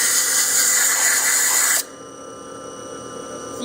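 A power drill running at steady high speed, loud and close, then cutting off abruptly partway through and leaving a faint residual hum.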